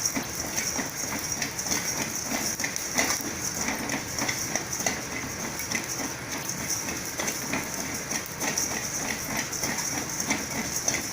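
Egg curry masala for muttai kuzhambu frying in a pan gives a steady, continuous sizzle and hiss with faint crackles throughout, fairly close and even in loudness.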